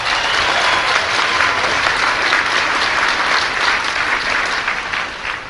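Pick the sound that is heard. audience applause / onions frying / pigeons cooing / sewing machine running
audience applause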